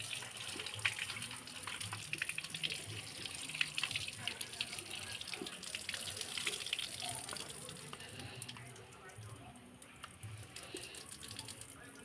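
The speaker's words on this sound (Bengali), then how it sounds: "কুচানো শাকগুলো আরেকবার ধুয়ে নেব" Chopped kulekhara greens are rinsed under a running tap, a steady close stream of water splashing over the leaves for most of the stretch, easing slightly softer near the end.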